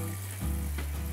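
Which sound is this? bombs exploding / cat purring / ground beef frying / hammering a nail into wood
ground beef frying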